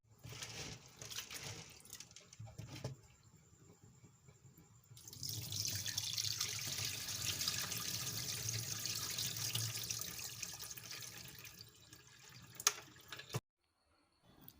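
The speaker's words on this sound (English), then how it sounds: "So I wash off the skin just as we wash in the beans for akara or moi moi" Running water pours into a sink as soya beans are washed to loosen their skins, a soft trickle that swells into a steady, close rush with light splashing before cutting off abruptly.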